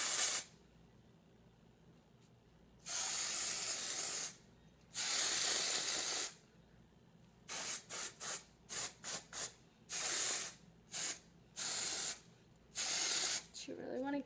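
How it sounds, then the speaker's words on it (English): Hairspray hisses onto hair from an aerosol can in close, loud bursts, first several long sprays and then a run of short quick puffs followed by more long blasts, with quiet pauses between. "And I'm going to go ahead and hairspray it."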